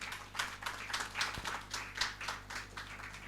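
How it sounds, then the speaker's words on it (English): A conference audience at a World Energy Day event claps in a moderate, fairly distant round of applause that stays even for a few seconds with no talk over it. "Please give him a round of applause."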